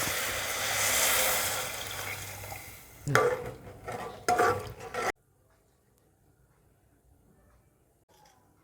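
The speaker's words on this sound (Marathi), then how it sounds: "आता आपण एक तांब्या पाणी घालू" A broad rush of water, a jugful, pours into a hot pan of curry base and sizzles loudly, followed by a few stirring scrapes, then the sound cuts to near silence.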